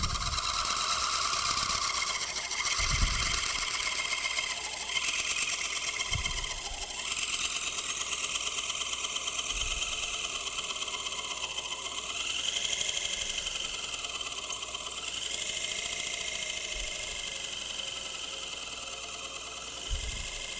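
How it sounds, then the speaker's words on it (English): A wood lathe at a live turning demonstration spins at low speed, about 200 to 300 RPM, on a lower-horsepower machine. It gives a steady, continuous whirring mechanical drone with faint periodic thumps and no talk. "This lathe has a lot less horsepower than mine."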